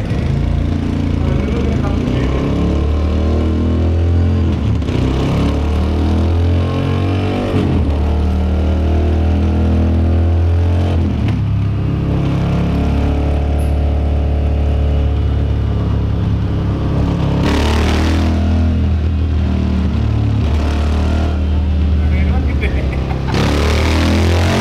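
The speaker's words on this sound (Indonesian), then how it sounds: "Moto Guzzi V7 menggunakan knalpot standarnya." A Moto Guzzi V7 motorcycle running on its stock exhaust during a test run, the engine droning loud and close with repeated rises and falls in revs, steady throughout with no pause.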